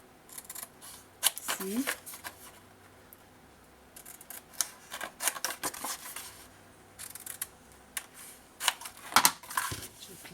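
Scissors cut at an angle through cardboard for a scrapbooking photo book, giving a few bursts of close snipping and crisp scraping spread across the stretch, with a brief word spoken partway through.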